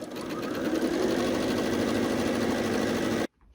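A sewing machine runs steadily, stitching red-and-gold and white-and-gold half square triangle quilt units together for a Carpenters Wheel and Stars block. It whirs close and continuous for about three seconds, then stops abruptly.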